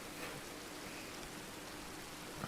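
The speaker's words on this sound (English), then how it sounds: "Oh, that rain." Heavy rain falls steadily in Thailand, a faint, even hiss of drops with no voices over it.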